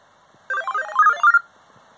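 A short, bright electronic jingle of rising bleepy notes, the Mario Bros. mushroom power-up tune played as a computer boot sound, plays once, about a second long, in otherwise near silence.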